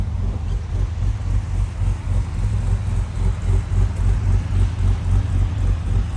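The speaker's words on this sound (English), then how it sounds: "Great tough sound from the V6." A Ford Ranger Raptor's V6 engine, fitted with an adjustable tune and ghost cam mode, runs close by with a deep, lumpy rumble that pulses rhythmically and evenly throughout.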